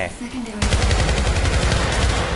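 Rapid automatic gunfire erupts in the Syndicate video game after a brief quieter moment, a dense burst of repeated shots going on continuously and loudly to the end.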